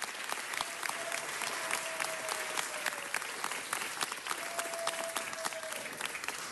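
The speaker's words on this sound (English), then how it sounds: "Let's give Michael another round of applause." An audience at a council meeting applauds steadily, a dense patter of many hands clapping that holds for several seconds without fading.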